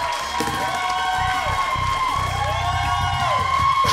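A studio audience claps and cheers steadily on a lively Malaysian variety show, the applause and whoops filling the room under some talking.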